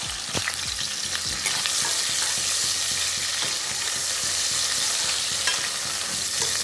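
Onions and tomatoes sautéing in a pan with cloves and cardamom for a goat lung gravy, a steady loud sizzle with rhythmic scraping stirring strokes throughout, close.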